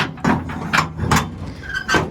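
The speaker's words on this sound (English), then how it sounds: "That's going to allow us to open this first door" A first door on a property swings open after its locking mechanism is released, giving a few close, sharp clunks and knocks spaced across about two seconds over a quiet room background.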